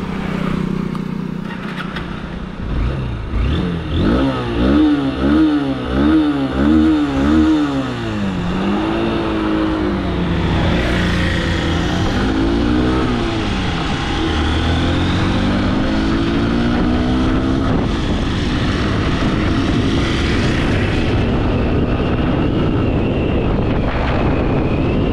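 A 2025 Honda Unicorn 160 motorcycle cruises on a highway, its engine note rising and falling through several rev changes before settling into a steady drone, with heavy wind rush over the microphone throughout.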